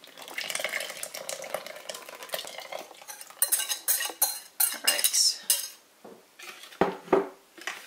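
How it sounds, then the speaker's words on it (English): Wet pancake batter is stirred into a dry mixture for chocolate cake pancakes, giving close, irregular scraping and clinking of a utensil against a bowl, steady at first, then breaking into separate louder strokes. "it's going to mix this wet mixture into this dry mixture"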